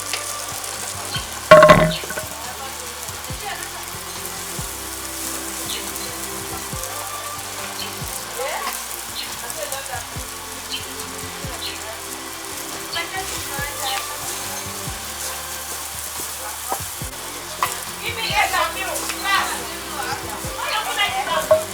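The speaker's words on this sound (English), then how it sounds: "turn it together and stir" Fried rice stirred and tossed in a hot sizzling pan, with steady frying crackle and repeated scraping strokes, one louder clatter early on, while people talk over the cooking throughout.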